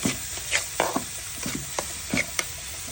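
Ginger paste, cardamom, turmeric and Kashmiri chili powder sautéing with a splash of water in a pan, a bubbling sizzle broken by frequent quick stirring scrapes and taps in an uneven rhythm.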